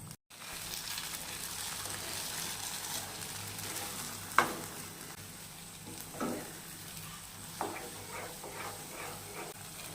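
Ghee sizzling in a pan while red poha kesari fries, a steady soft crackle throughout with a few sharp clicks and stirring taps, fairly quiet and close.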